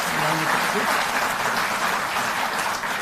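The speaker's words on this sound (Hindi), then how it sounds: "तो इस पर जोरदार ताली।" Loud, dense applause from an audience at a Delhi government event for Delhi Jal Board employees, steady clapping filling the whole moment without a break.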